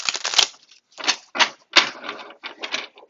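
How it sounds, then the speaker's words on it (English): Tarot cards are shuffled and slid across a surface, giving a series of crisp papery rustling bursts in uneven rhythm, close and clear with silence between handlings. "I'm going to go ahead and move these cards out of the way"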